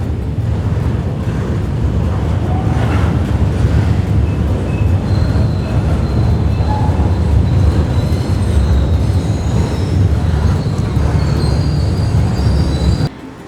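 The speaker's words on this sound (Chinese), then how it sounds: "大家看这里有火车经过，这个火车呢应该是拉一些货的、装货的一个火车" A loud freight train rolls past close by in Yanjin County, Yunnan, a constant heavy rumble with faint wheel squeals, ending abruptly.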